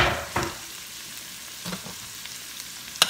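Sausage frying in its grease and stirred into cabbage in a pan, a soft sizzle under a handful of spaced scrapes and clunks from the spoon, ending on a sharper knock.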